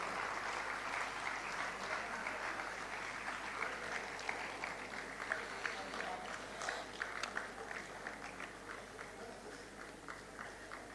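An audience at a public event applauds steadily, a dense crowd clapping from start to end with scattered louder claps, fairly distant and even in level.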